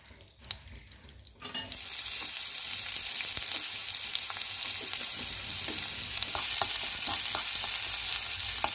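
Curry leaves drop into hot white oil and burst into a loud, crackling sizzle after a quieter start, the spattering hiss holding steady and close through the rest of the clip.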